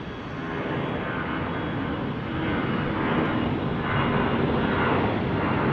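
A Delta jet powers up for takeoff from runway 34 right at Salt Lake City airport, a broad, steady engine roar that swells slightly louder as it goes.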